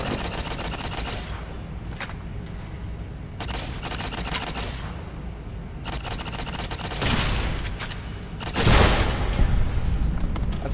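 Turrets firing in the Dead Money add-on of the video game Fallout: New Vegas, loud repeated bursts of rapid gunfire with short pauses between volleys and a heavy blast late on.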